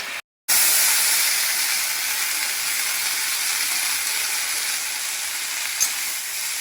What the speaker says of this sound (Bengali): শুকনো লঙ্কা, কাঁচা লঙ্কা, পাঁচফোড়ন দিয়ে এই যে কেটেছি, এবারে ভাজবো